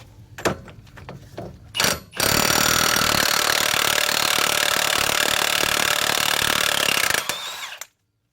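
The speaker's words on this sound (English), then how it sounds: "I'm going to use my impact." Impact wrench removing the front wheel hub nut on a 2005 Jaguar X-Type: a few handling knocks and clunks, then a loud, continuous hammering rattle for about five seconds before it cuts off abruptly.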